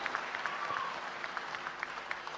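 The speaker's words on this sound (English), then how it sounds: "Please give them a better round of applause" Sparse, faint audience clapping at a tech fair after a team's presentation, with individual claps standing out over a quiet room.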